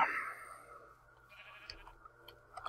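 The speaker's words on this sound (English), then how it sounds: "Hello, Mr. Sheep." A sheep in the modded Minecraft game Feed The Beast gives a short bleat at the start, followed by quiet game ticks and clicks in a fairly hushed scene.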